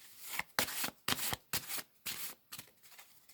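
A deck of tarot cards is shuffled by hand in a quiet room, giving a rhythmic series of soft riffling bursts, about seven or eight quick flutters close to the listener.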